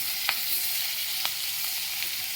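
Fish fry in a pan with a steady, close hiss of hot oil, broken by a few brief clicks or pops of a utensil.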